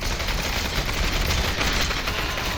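AK rifle fire in the VR shooter Population: ONE comes as a dense, continuous burst of rapid gunshots that stays loud and unbroken throughout.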